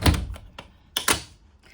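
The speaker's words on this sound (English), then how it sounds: "I'll just shut this door." A nearby door closes with a couple of soft, quick thuds and a light click, fairly quiet and brief.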